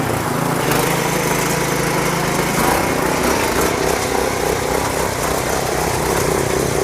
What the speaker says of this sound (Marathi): हा लाईव्ह डेमो कसा आहे मशीन आपण स्टार्ट करूया